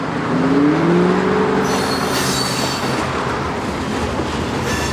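An SD70MAC diesel locomotive rolls past close by, a dense steady roar of rail noise with wheel squeals rising and fading and faint clicking of cars over the track.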